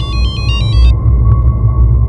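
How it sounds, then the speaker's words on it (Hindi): A landline telephone rings with a short burst of rapid, high electronic trilling pulses that stops after about a second, sitting above a loud, steady, low rumbling drone. "लैंडलाइन नंबर से फ़ोन आया।"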